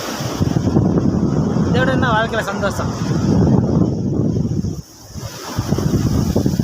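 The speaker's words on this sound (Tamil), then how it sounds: "என்ன ஊர்னா திருவான்மியூர் கடற்கரை." Wind and sea waves at Thiruvanmiyur beach make a constant broadband rush and rumble with brief dips. A voice speaks over it almost throughout, and the noise stays loud and close to the microphone.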